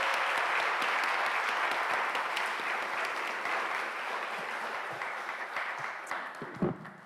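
Warm applause from a church congregation at a Sunday service, dense clapping that holds steady then thins into scattered claps and fades near the end.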